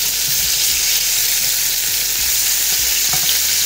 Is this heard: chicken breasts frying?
yes